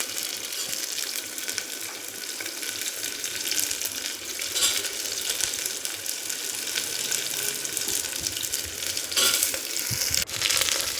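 Onions frying in a pan and being stirred, a steady close sizzle lasting throughout with occasional scraping clatters.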